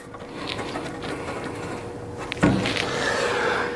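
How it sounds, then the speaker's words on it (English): Lock nut being threaded and tightened onto the burner of an indirect-fired gas heater, close mechanical ratcheting and metal rubbing with a sharper clank partway through. "get our lock nut started"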